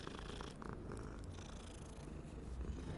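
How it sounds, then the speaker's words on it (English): A cat in Hogwarts Legacy purrs while being petted, a soft, steady, rumbling purr that continues quietly throughout. "We must pet the kitty."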